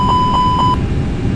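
An aircraft cockpit warning alarm sounds four quick, loud, evenly spaced beeps, then cuts off, leaving steady cabin noise.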